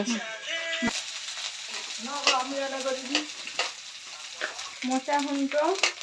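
Garlic and ginger fry in oil in a pan for a rui fish curry with a close, steady sizzle. A voice talks loudly over it for much of the time.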